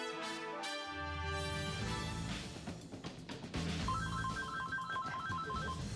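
A telephone ringing with a repeating electronic tone pattern over music, loud and close, no speech.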